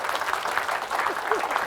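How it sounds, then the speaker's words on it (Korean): Audience applause at a Korea University professor's retirement farewell lecture, a steady burst of clapping from a seated crowd that fills the whole moment, with a few faint voices mixed in underneath. "박수 한번 주시고."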